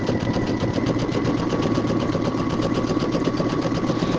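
A sewing machine runs a zigzag stitch along a fabric fold, a fast, even mechanical chatter that is close, loud and unbroken for the whole stretch, with no voices.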